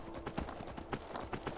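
Shadowmere, a horse in the video game Skyrim, gallops with a steady, rapid clip-clop of hooves, each beat sharp and close, continuing evenly throughout without any talk.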